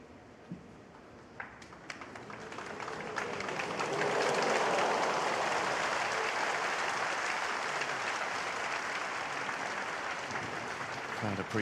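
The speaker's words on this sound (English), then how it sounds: "Crowd appreciating that safety from Judd Trump" Applause from a snooker crowd at the Shanghai Masters final, swelling from a few claps into steady, sustained clapping across the arena, with a commentator's voice faintly underneath.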